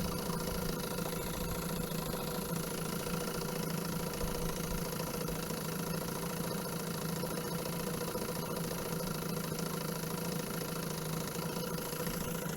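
A 1969 Johnson 6HP long-shaft outboard motor runs at a steady idle, a continuous even drone with a faint mechanical rattle throughout and no talking.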